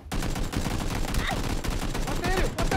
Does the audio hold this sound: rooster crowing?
no